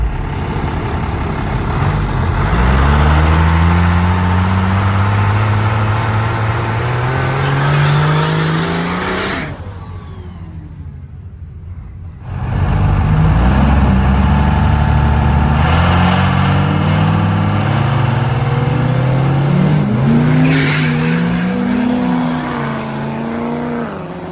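A Cummins diesel drag racing truck makes a test pass, its engine roaring loud and close as it revs up through rising pitch, drops away briefly, then surges again with strong, sustained acceleration.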